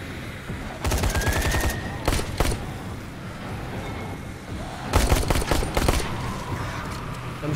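Bursts of rapid automatic gunfire from the zombie video game Dying Light, two loud volleys roughly a second long with a few single shots between, played over steady game ambience.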